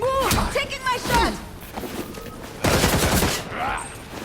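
Gunfire bursts in the Gotham Knights video game on PS5, sharp broadband cracks in two loud clusters, the second around the middle of the clip, with character shouts over the opening moments.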